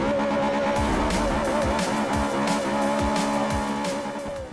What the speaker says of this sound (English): Listen to the wail of that Italian V8 just roaring behind us.